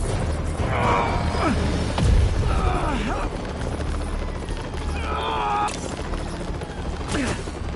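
A helicopter being stolen in the video game Marvel's Spider-Man: a dense, loud rotor-and-engine roar runs throughout, layered with bursts of gunfire, booms and crashing impacts.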